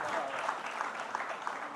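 Audience at an NDTV Creators Manch event applauding poet Ashok Chakradhar, a fairly soft, steady wash of clapping from a crowd throughout.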